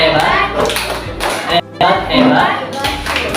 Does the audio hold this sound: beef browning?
no